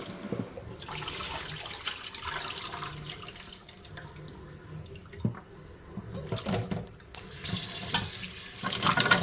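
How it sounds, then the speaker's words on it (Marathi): Turmeric roots are rinsed under running tap water in a sink, with fairly quiet, uneven splashing and trickling as the roots are moved and rubbed, and swells of water flow toward the end. "काल मार्केटमधून आणलेली हळकुंड, त्यांना थोडी माती वगैरे असते म्हणून अशी हळकुंड पाण्यामध्ये धुवून घेते."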